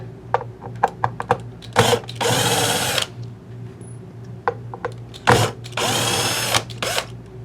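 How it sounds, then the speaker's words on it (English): A power drill removes screws from the bolt-on neck of an Epiphone SG guitar, with short whirring bursts followed by two longer loud runs of the motor, close up with small clicks in between. "I'm just going to pull the neck off of here real quick."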